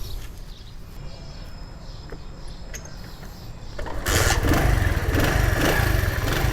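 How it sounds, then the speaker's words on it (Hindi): A motorcycle starts up after a few seconds of quiet low rumble, then settles into a loud, steady, close engine idle for the rest of the stretch. "ये अभी हम मोटरसाइकिल को स्टार्ट करेंगे।"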